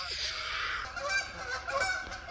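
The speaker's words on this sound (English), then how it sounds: "Some birds fly by and honking." Geese honk repeatedly as they fly past a lakeside camp at East Fork Lake in the morning, a steady overlapping chorus of calls heard at moderate distance and fairly loud throughout.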